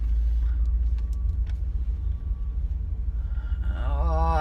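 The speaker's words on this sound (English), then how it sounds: "Now I'm stuck in massive traffic" Car traffic on a road heard from inside a vehicle, a loud steady low rumble with a faint wavering whine rising toward the end.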